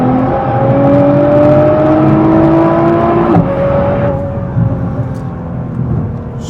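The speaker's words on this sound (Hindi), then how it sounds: "आपको एक्सेलरेशन चेक दिखाते हैं थोड़ा सा।" A 2019 Nissan GT-R accelerates hard, its engine note climbing loud and close through a gear, then a shift and a second rising pull before the sound tapers off.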